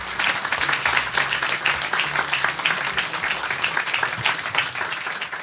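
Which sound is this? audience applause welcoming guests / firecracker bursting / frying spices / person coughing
audience applause welcoming guests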